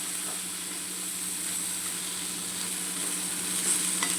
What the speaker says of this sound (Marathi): थोडं फ्लावर तेलामध्ये वाफून घ्यायचे आणि मग मसाले घालायचे.